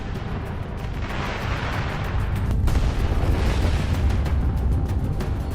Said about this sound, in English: Reactive armor modules begin exploding one after another.